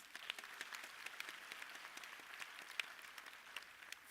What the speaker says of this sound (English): equally deserves a round of applause